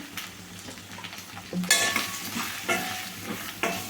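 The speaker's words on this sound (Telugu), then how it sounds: "బాగా కలుపుకోవాలి" Drumstick dal curry stirred in a pan with salt, chili and spices, soft sizzling under repeated scraping strokes and light metal clinks of a spoon, close up and without speech.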